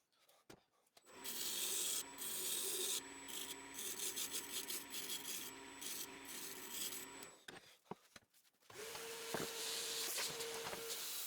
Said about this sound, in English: For the sanding, I'm using 120 grit followed by 240 grit, which I think is enough for a mallet.